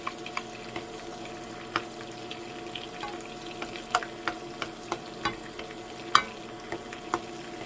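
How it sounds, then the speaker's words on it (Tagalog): Butter melting in a hot pan while cooking buttered seafood gives a quiet, steady sizzle broken by scattered small crackling pops, with no one talking. "Tunawin yung butter"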